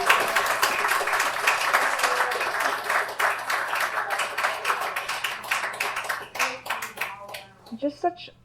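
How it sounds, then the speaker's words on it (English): An audience at a poetry anthology reading applauds its poets, with loud, dense clapping that thins into a few scattered final claps as it fades, and faint voices mixed in. "Let's give a round of applause for Richard and for all our poets here today"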